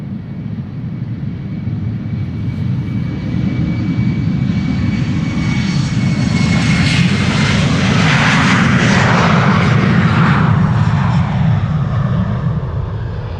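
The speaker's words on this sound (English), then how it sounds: "look at the departure of this Embraer 190 KLM flight 1087 to Cardiff" KLM Embraer 190 jet airliner departing Amsterdam Schiphol Airport, a loud, steady low engine roar with a rushing, sweeping whoosh as it passes by, heard continuously without talk.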